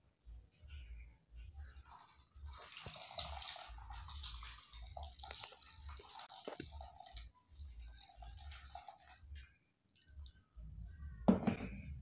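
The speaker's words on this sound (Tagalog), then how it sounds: "dadagdagan pa natin siya ng isang 1 liter of hot water" Hot water, about one liter, is poured into a chocolate ice candy mix, giving an intermittent splashing, trickling flow with pauses, faint and close, ending with a brief clink of a container.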